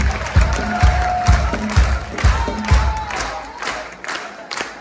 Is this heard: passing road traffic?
no